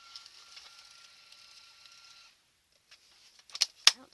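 A Brother label printer running a black-on-pastel-purple tape cassette gives a faint, steady mechanical whir for about two seconds, followed by a few louder clicks and a sharp snap near the end, with no talking.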